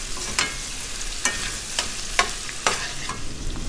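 Chopped shrimp and tofu frying over medium heat in a pan, stirred with regular sharp scrapes of a utensil about every half second over a steady, close sizzle, no voices.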